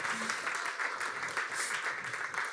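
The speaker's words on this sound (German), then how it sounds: "Gebt ihm mal einen großen Applaus." Church audience applauding a guest speaker as he comes onto the stage, a steady wash of many hands clapping at moderate distance, fairly quiet and even throughout, with no voices over it.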